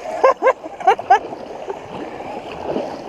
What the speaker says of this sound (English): Ah, you're splashing me.